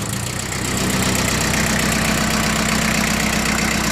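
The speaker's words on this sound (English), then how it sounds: "MT2201 4-cylinder diesel tractor." Mitsubishi MT2201 four-cylinder diesel compact tractor idles close by, a loud, steady low chugging with an even rapid knock and no talk over it.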